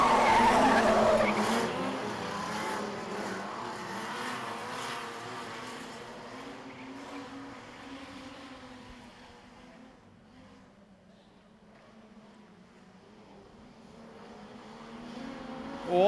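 Super Street race cars at Kingaroy Speedway, including a Falcon, roar and slide around the dirt corners, a loud engine drone that fades into the distance and then builds again as the pack returns.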